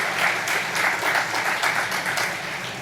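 A Korean church congregation at a Wednesday service applauds to welcome the pastor's wife, a full, continuous burst of many hands clapping that stays steady and begins to taper at the end.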